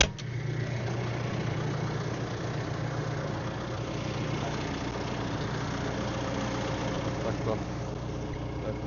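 A tractor engine idles in a wheat field with a steady low rumble, heard from nearby and continuous for the whole stretch, without pause.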